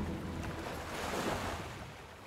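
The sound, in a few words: storm at sea, waves sound effect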